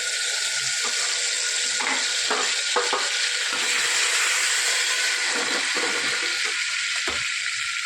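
Green chillies, bay leaf and garlic chutney frying in hot oil, a steady loud sizzle throughout with intermittent stirring clicks of a utensil against the pan, heard close and without talk.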